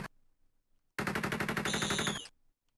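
Rapid automatic gunfire in a video game, a dense burst of evenly spaced shots lasting over a second, loud and close, preceded by a brief click and followed by silence.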